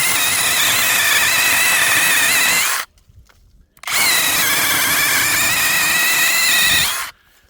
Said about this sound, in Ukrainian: Розказують мені байки, що ця пилка не ріже.